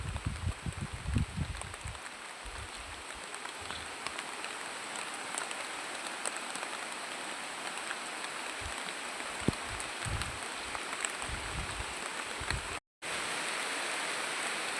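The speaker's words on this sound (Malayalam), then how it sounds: "നല്ല മഴയാണ്, മഴ പെയ്തുകൊണ്ടിരിക്കുക." Steady rain pours over a river, heard from an iron bridge above the water, a dense continuous hiss with occasional low thumps and a brief dropout near the end; no one speaks.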